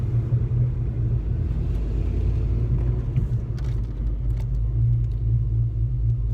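A 1991 Ford Mustang GT V8 gives a steady, deep low rumble from a ride-along, continuous and fairly loud with road noise and no talking.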